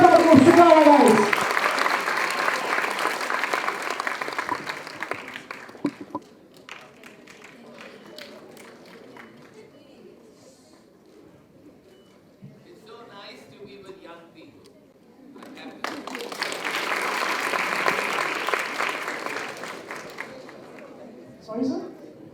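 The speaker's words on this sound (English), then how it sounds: "Let's have a round of applause for Nikita Shukla, guys" A college audience bursts into loud applause, which drops to a quieter stretch of talk and murmuring, then a second strong wave of clapping swells before fading.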